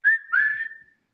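A person whistles a short two-part tone, a brief note followed by a longer steady one that trails off, clear and close, with no talking around it.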